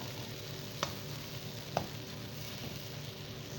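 Indomie noodles stir-frying in a pan with a quiet, steady sizzle and two sharp clicks of a utensil against the pan, close and faint.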